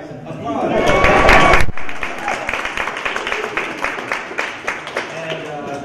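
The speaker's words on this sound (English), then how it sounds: "Applause, guys. Applause." An audience at a panel discussion on the 13th Dalai Lama breaks into applause: a loud, dense burst that cuts off sharply, then continues as lighter, scattered clapping from a smaller crowd.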